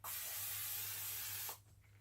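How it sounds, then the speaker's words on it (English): A single steady hiss of cooking spray into a loaf pan, close and fairly quiet, lasting about a second and a half before cutting off. "We're going to spray it down with some cooking spray."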